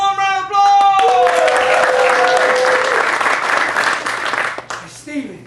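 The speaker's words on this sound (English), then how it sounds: "After a warm round of applause!" Warm audience applause at an improv comedy show, a broad crowd clapping that swells in right after a presenter's voice and rolls on for several seconds before thinning out as speech returns.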